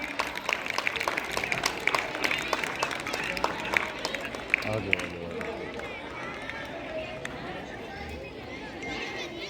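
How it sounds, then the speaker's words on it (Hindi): Loud, dense applause from a crowd of children at a school welcoming ceremony, mixed with chatter and voices, then thinning into murmuring and a speaking voice in the second half. "सभी बच्चे जोरदार तालियों से स्वागत करेंगे।"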